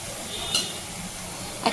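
Onions frying with salt in a pan make a low, steady sizzle, broken by a couple of brief utensil scrapes near the pan.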